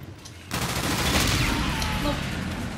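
Rapid automatic gunfire from a gun in the video game Call of Duty: Infinite Warfare bursts in after a quiet half-second and continues as a dense, loud fusillade for the rest of the clip.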